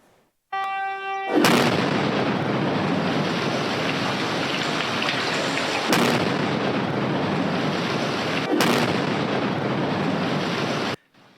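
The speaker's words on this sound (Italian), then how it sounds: "L'ultima campata del viadotto Ritiro sulla tangenziale di Messina viene giù con una serie di piccole esplosioni controllate" Last span of the Ritiro viaduct on the Messina bypass demolished by a series of small controlled explosions: a short tone, then a sudden loud blast followed by sustained rumbling debris roar, with two further sharp bursts before it cuts off.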